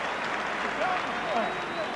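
A stadium crowd of Irish fans at a friendly football match against Brazil applauds from a distance, a steady roar of clapping and crowd noise with a commentator talking over it.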